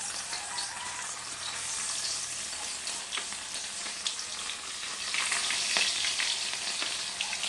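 Embutido fries in hot oil with a dense, steady sizzle and crackle. The sizzle swells a little toward the end, with scattered pops and no speech.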